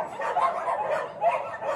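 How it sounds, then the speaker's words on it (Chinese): Several dogs in a mountain area give soft, scattered barks and yips, fairly faint and somewhat distant, with no talking. "这是这边区域的几只狗狗"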